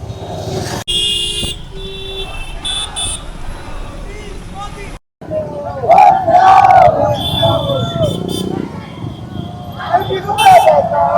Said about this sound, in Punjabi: ਇੱਥੇ ਵੀ ਪਤਾ ਨਹੀਂ ਕਾਹਦੇ ਹੁਣ ਧਰਨੇ ਲੱਗੀ ਜਾ ਰਿਹਾ